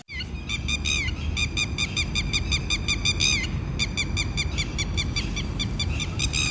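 Repeated bird calls ring out from a wetland lake in rapid bursts of chirping and honking over steady low wind or water rumble, continuous across the whole stretch with a short pause midway.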